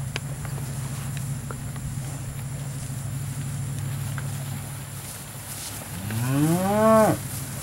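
A steer lets out a single loud, rising moo near the end, after several seconds of low engine-like rumble and faint outdoor noise at a cattle auction.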